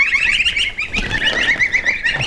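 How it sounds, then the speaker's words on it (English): A flock of geese in a pen honk loudly and close, overlapping nasal calls in a busy, continuous chorus. "As you get a look at these geese, you'll notice that some of them have a tufted head."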